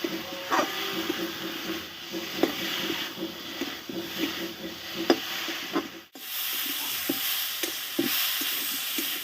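Potatoes with spices are fried and worked in a pan, rhythmic rubbing spatula scrapes over a low sizzle, close by, with an abrupt shift to a brighter frying hiss partway through.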